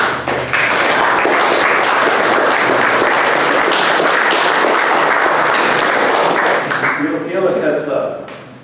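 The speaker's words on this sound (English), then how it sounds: "So applause for Calvin." An indoor audience at an artist talk in a gallery breaks into sustained, dense applause lasting several seconds, loud and close, fading out as a voice begins to speak at the end.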